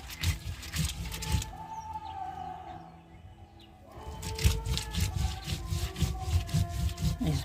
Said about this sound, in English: I'm using my grinding stone to grind my chilies.